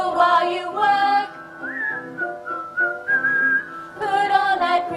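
Performers in an outdoor castle-grounds staging of A Midsummer Night's Dream whistle a cheerful melody together, clear and loud, with sustained and gliding notes forming a continuous tune and no talking.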